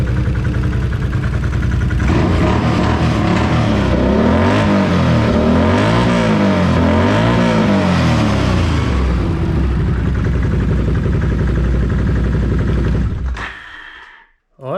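A BRP Can-Am Outlander 800 ATV engine runs loud and close, holding a rough, throaty idle that rises and falls with revs midway, then cuts off abruptly near the end.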